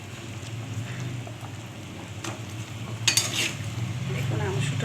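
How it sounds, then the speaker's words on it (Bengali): Fish tipped into a simmering Bengali curry of mustard paste, dried mango, nigella seeds and green chilli, with a steady bubbling sizzle and a brief splash and clatter partway through, close by. "এরপর আমি মাছটা পুরো ঢেলে দিচ্ছি।"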